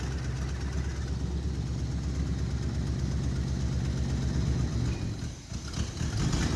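An abandoned 1970 V8 Mustang, revived after decades with its timing still off, runs with a steady low rumble, then briefly dips and stumbles near the end as it is revved and shifted into reverse.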